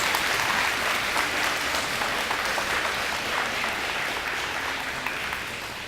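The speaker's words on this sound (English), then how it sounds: "go ahead and give them a round of applause" A crowd at a DARE graduation ceremony gives a round of applause, heard as a dense, steady wash of clapping from many hands, sustained throughout and tapering slightly at the end.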